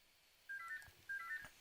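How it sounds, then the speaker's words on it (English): A mobile phone ringtone sounds indoors as two short bursts of a bright electronic melody separated by a brief pause, faint and with no other sound around it. "how often does my fucking phone ring when I'm making a video?"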